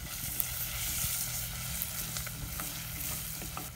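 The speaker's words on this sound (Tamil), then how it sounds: "வெங்காயம் மணத்தக்காளி விதை ரெண்டுமே வந்து நல்லா வதங்கிருச்சு" Small shallots and manathakkali seeds frying in sesame oil in a village kitchen, a steady close sizzle with light crackle and a few faint stirring scrapes, no talking.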